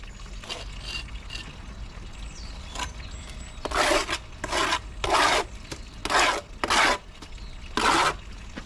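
Trowel scraping freshly sprayed plaster render on a wall, heard as a series of six or so loud, rasping strokes of about half a second each, close by, with short pauses between them.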